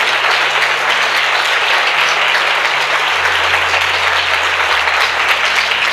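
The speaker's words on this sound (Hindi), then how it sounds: "क्या हम प्रभु के लिए एक अच्छी ताली बजा सकते हैं मिलके?" A congregation at a Hindi-language sermon claps together for the Lord, producing loud, dense, sustained applause that fills the whole stretch, with a low tone running beneath.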